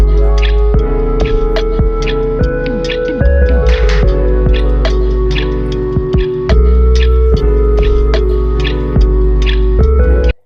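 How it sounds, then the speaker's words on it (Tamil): Water runs steadily from a dispenser into a bottle, a constant pouring stream over a low electric hum, with small clicks and splashes throughout. "இப்போ நம்ம இதை ஆன் பண்ணி நம்ம பாட்டிலில் தண்ணி ஃபில் பண்ணலாம்"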